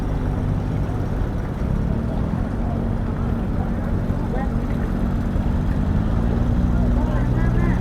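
A long-tail boat engine drones steadily and loudly throughout on a river at Vang Vieng, a rough low rumble with constant churning noise and no pauses.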